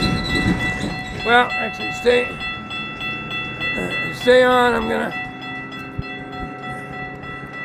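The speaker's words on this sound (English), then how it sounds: "there's another train coming" A Florida East Coast (FEC) freight train passes close by, sounding several blasts of its horn over a rumbling, clattering rail noise. Someone speaks briefly between the blasts.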